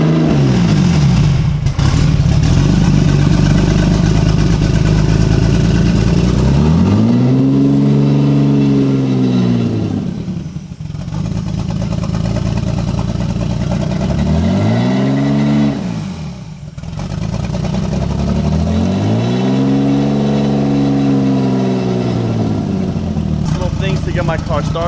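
A show car engine cranks, catches and revs repeatedly, with loud rising and falling surges in three distinct bursts separated by brief dips toward idle, close to the microphone.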